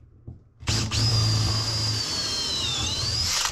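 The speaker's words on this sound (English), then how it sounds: "you can really feel the difference between cutting through this Douglas fir and that white oak" A power tool bites into Douglas fir on a wooden boat bulkhead job, with a loud steady whine that runs for about three seconds after a brief start-up.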